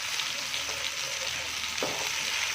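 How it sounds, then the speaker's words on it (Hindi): Okra with masala spices frying in a pan, a steady close sizzle with occasional scrapes and knocks of a spoon stirring through it, no voices. "इसमें ला करके आपने साथ साथ चम्मच लाते जाना है और इसको पकाते जाना है"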